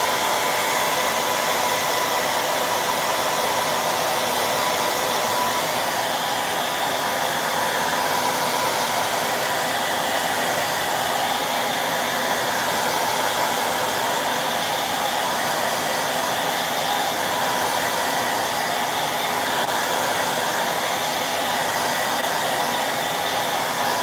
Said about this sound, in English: I'm going to use the hairdryer for a quick minute.